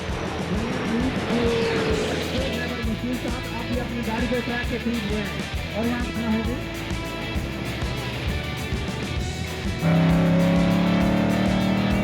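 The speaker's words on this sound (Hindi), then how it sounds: "जीप रैली की रफ्तार और महारत को कैमरे में कैद किया।" Jeeps roar flat out in the Cholistan desert jeep rally, their engines droning loudly and continuously with revving rises and a sharper, closer engine note in the final seconds.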